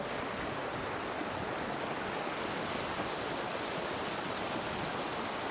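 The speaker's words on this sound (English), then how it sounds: "caused quite a lot of water coming down this stream" Meltwater stream on Bornholm, Denmark, swollen after snowmelt from the island's interior, rushing in a loud continuous broadband roar of flowing water, steady and close with no voices.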